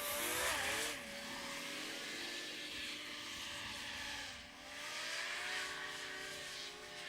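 A racing hovercraft at a Magnols Farm race meeting accelerates hard from a standing start, its engine and propeller whine rising and sweeping in pitch, loud and close, dipping briefly before surging again.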